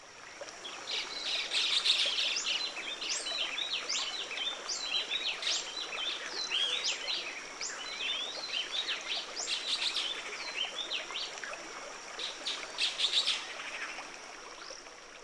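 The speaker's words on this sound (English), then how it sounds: "Do you notice the repetitive song of the happy wren" Social flycatchers and happy wrens sing and chirp continuously, with repeated bright phrases overlapping, over a soft background of the running Huatulco River.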